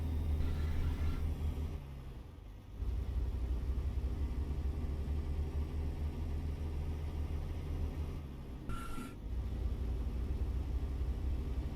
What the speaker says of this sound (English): Can really hear this engine fighting it